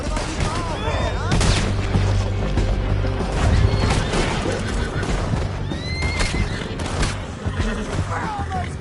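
Horses in Red Dead Redemption 2 neigh and whinny repeatedly amid galloping hooves and scattered gunfire in a chaotic ride, with voices shouting over the din.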